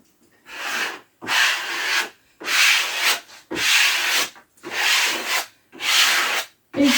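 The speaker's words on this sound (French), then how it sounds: "on chasse les bulles d'air et on fait adhérer le papier au support" An old card smoothed firmly over adhesive paper being stuck to a bookshelf, steady scraping rub strokes repeated about six times in an even rhythm, loud and close with no speech.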